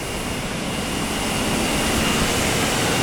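A Boeing 737 jet engine turbine roars in a steady, broad, loud rush heard close on the ground, with no voices.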